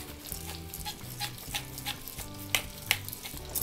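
Carrots cooking in a pan of browning butter, a steady low sizzle with stirring and a few sharper scraping clicks, close and moderately loud with no talk.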